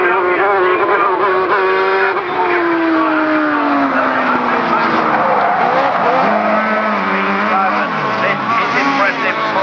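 Rallycross cars on the final lap at Croft, engines roaring loud and close with shifting revs and gear changes, a commentator talking over the racing noise.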